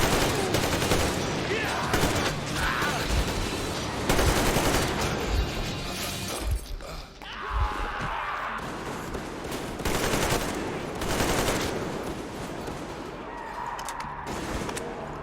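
Bursts of gunfire rattle through the whole stretch, dense volleys and rapid shots crowding together, loud and close, with people talking under and between the shooting.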